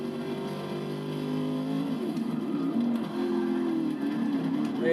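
BTCC touring race car engines in Forza Motorsport 6 at Road Atlanta, droning and revving steadily up and down through gears, close and loud throughout.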